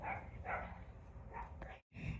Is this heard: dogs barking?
yes